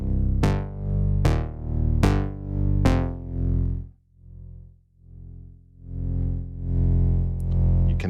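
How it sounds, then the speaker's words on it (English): Distorted, buzzy guitar-like notes from a distortion effect plugin strike in a quick series, then sustained gritty tones swell and fade in a slow rhythm. "You can hear the distortion here coming in."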